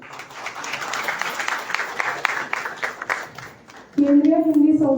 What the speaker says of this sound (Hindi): उनके लिए भी एक बार तालियां हुए